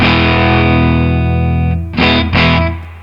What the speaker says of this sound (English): with the fuzz but like backed off